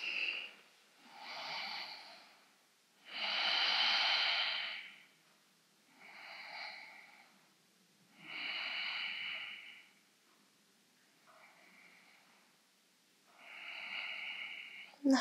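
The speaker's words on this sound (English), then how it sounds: "So breathing in for five, exhale for five." Slow, even breathing during a yoga class: about seven unhurried inhales and exhales alternate in a steady rhythm, close and soft, with near silence between them.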